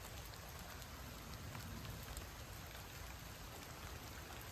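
Rain falls steadily at Blackwater Creek preserve, a faint, even hiss of drops on leaves and ground with no voices, continuous throughout.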